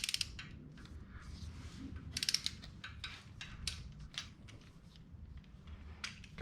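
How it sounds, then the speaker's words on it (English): Ratchet wrench clicking as it tightens a cylinder head bolt on a Suzuki SX4 engine, a close run of quick metallic pawl ticks in uneven bursts over a low background hum. "See how far down I'm ratcheting this one."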